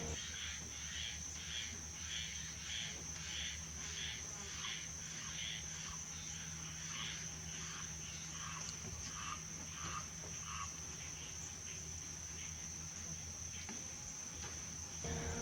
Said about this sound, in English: listen to the bullfrogs croaking in the background